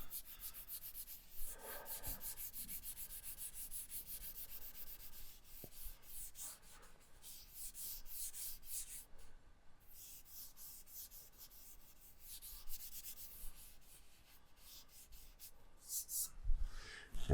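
Powdered charcoal is rubbed onto drawing paper, a soft, close, repeated scratchy rubbing with brief pauses, quiet and alone without speech.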